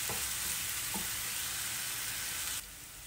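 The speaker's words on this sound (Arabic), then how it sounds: "غادي نخلي البصل يتقلى حتى يتحمر شويه" Onions frying in a pan, a steady close hiss of sizzling oil running throughout, with a couple of faint clicks and the sizzle dropping slightly in level near the end.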